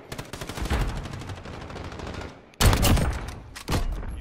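Kar 98 rifle fire in the video game Modern Warfare, with rapid, close, loud bursts of shots, a brief pause, then another sharp volley followed by a final burst.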